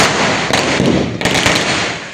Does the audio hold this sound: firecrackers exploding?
yes